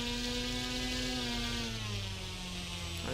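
A model airplane's engine whines steadily in the RealFlight 9.5 flight simulator game, a loud continuous buzzing drone whose pitch sinks gradually as the plane slows, then climbs sharply again at the end.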